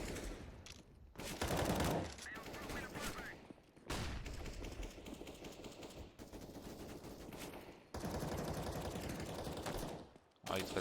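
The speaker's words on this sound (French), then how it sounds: "Ah, il te reste des balles, hein. T'as tiré 2 balles." Bursts of rapid video-game gunfire in a match, loud fusillades of several seconds broken by short gaps, with a voice talking faintly underneath.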